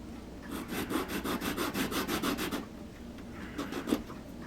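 Hand saw cutting wood on a model ship, a run of about fifteen quick, even rasping strokes, then a pause and a few more strokes, close and moderately loud.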